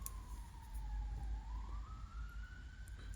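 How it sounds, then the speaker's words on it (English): A faint wailing ambulance siren drifts in the distance as it passes, its pitch falling then rising, over low rumbling background noise. "Got an ambulance going past, I think."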